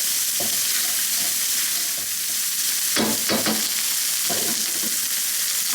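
Dry spices stirred into softened onions simmering in liquid in a pan for a coconut prawn curry: a steady close sizzle with several quick scraping strokes of the spoon clustered near the middle.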